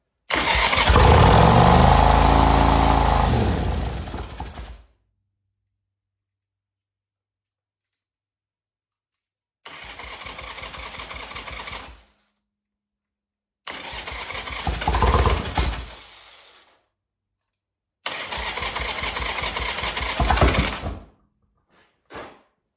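A 1985 Harley-Davidson Sportster 1000 motorcycle engine fires up on choke with a loud, rough roar, then cuts out; three more shorter bursts of running follow, separated by silences, ending with a faint final cough.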